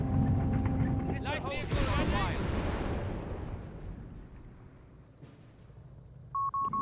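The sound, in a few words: mortar bombardment in video game Company of Heroes 3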